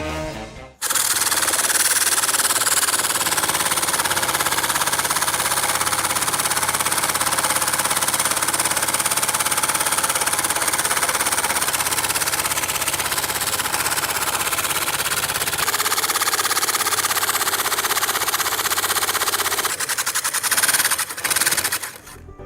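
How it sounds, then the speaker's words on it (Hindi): A vibrating motor machine shakes a plastic tank filled with sand in a loud, continuous rattling buzz that runs for about twenty seconds before stopping. "जैसे इस मोटर को ऑन करेंगे, इसके वाइब्रेशंस इस टैंक तक जाएंगे"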